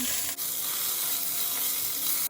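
Dense, continuous hiss of onions sizzling in a pan, loud and close, with faint scraping at the start.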